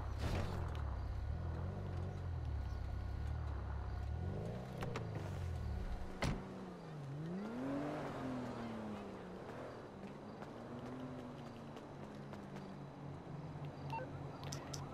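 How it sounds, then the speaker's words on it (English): Car in the video game GTA 5 driving, its engine tone rising and falling through gear changes, then slowing down to park, with a sharp knock midway and a quieter idle afterward. "Now, I'm going to park my car here."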